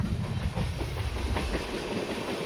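Mysuru to Mantralayam Express running on its tracks, a steady low rumble of wheels and carriage noise with faint rhythmic clatter, continuous and close throughout.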